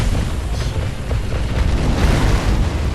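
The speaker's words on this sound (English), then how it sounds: "Always make sure you put a little bit of a delay in your firecrackers." Firecrackers go off in the video game Sekiro with a loud, rumbling burst of booming pops, thick and continuous for about three seconds, with no talk over it.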